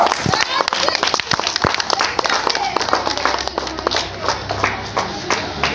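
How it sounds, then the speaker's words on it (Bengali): A crowd claps at the opening of a school pitha festival, a dense continuous patter of many hands close by, with voices talking through it. "সবাইকে জোরে করতালি দিতে অনুরোধ করছি। জোরে করতালি, জোরে করতালি।"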